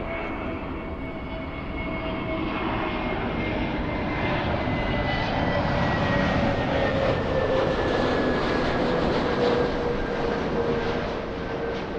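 A Boeing 767-400 jet's engines roar steadily and loudly for the whole stretch, a broad continuous rumble with a faint whine gliding slowly downward, no voices over it.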